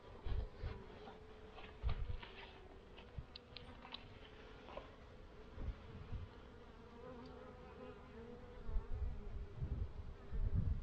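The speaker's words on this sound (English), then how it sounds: "There's bees, not as many as I would like to see," Honey bees drone and buzz close by in a steady hum inside a hive during a winter inspection in Pennsylvania, with louder swells as individual bees pass near, and no talking.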